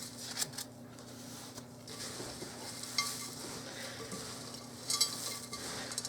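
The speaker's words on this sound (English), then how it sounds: "We'll get this all mixed up and then we'll add our wet ingredients." A spoon scrapes and stirs through dry granola bar ingredients for cranberry walnut bars in a bowl, a soft, steady rustle broken by a few sharper clinks against the side, with no talking.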